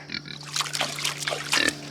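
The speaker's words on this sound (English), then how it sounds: "we got the pigs to start drinking their water" Pigs drinking water nearby, with wet slurping and lapping and soft snuffling grunts in short bursts over a low steady hum.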